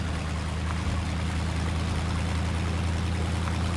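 A heavy truck wades through deep water off-road in Mudrunner on the modded Blackwater Canyon map, with a steady low engine rumble and constant sloshing, churning water, loud and close, without talk.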